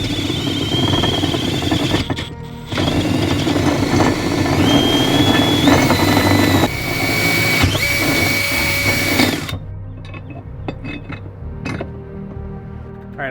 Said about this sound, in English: drill the first hole with this giant drill bit right into the side of the boat